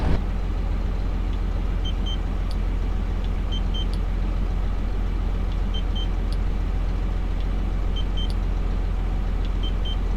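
A parked truck idles in the cold, giving a steady, unbroken engine drone with a faint, regular ticking over it and no voices.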